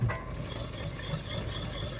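Vegan bechamel sauce being stirred in a pot, a faint, steady scraping swirl with a light clink of utensil against metal at the start, no talking.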